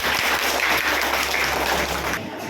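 Applause from a classroom of students during a quiz, a dense burst of clapping that fills most of the moment before cutting off abruptly.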